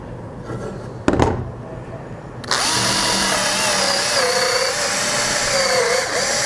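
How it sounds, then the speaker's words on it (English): A power drill starts with a short burst, then runs steadily at high pitch, drilling a hole in wood, with a whining tone that rises and falls as it bores in, loud and close. "drill your hole"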